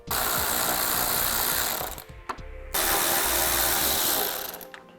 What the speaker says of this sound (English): let's remove 3 10mm bolts on each side